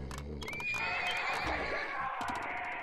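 A horse in the Petka 5 video game gives a loud, drawn-out whinny over rapid clip-clop hoofbeats, with a brief fragment of voice under the noise.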